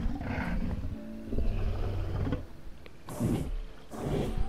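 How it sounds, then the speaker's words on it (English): A T-Rex in a dinosaur video game lets out deep, rumbling roars in several swelling bursts, moderately loud against a low background rumble, with no one talking. "There's the roar."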